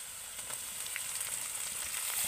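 Carrot, potato and capsicum fry together in a pan with a soft, steady sizzle and a few faint stirring ticks, fairly close, with nobody talking.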